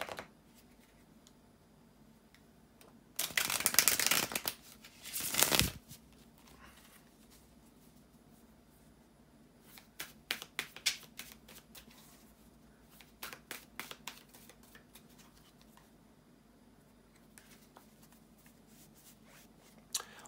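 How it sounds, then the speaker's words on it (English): Tarot cards being shuffled by hand, a dense riffling burst of about a second followed by a second shorter burst, then softer scattered card taps and slides, quiet and close with no talking. "bear with me a second, guys, to shuffle the tarot cards"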